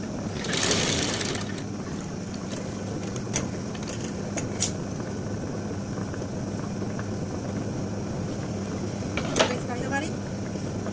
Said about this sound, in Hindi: हमारी ये एक सिलाई हम मारेंगे इस तरीके से